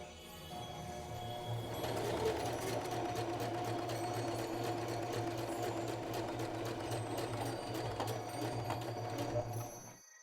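Sewing machine running steadily on a straight stitch, embroidering a design onto a sweatshirt; a continuous close, even mechanical whir with a rapid needle rhythm that starts after a brief quiet moment and stops near the end, with no talk.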